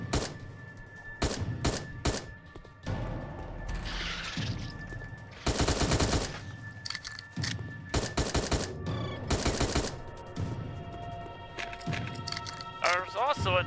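Gunfire zapping Rogastodon dinosaurs in the Dino Trauma video game, rapid bursts of clipped rattling shots that come in clusters, mixed with other game sounds and a speaking voice.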